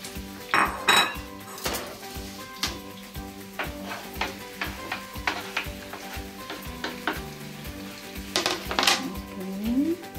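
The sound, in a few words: onions cooking in a pan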